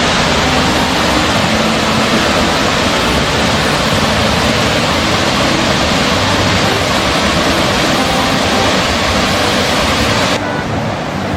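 Lan Sadet waterfall on Doi Inthanon roars as a loud, continuous wash of rushing water close by, unbroken for the whole stretch.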